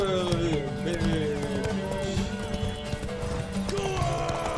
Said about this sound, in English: We will ride the horse.